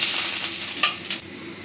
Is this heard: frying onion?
yes